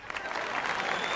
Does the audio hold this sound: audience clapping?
yes